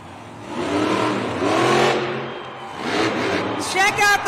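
A monster truck engine revs hard and roars in a large indoor arena during a front-wheel balancing stunt at a Monster Jam event in Denver, rising and falling in loud surges beneath crowd noise.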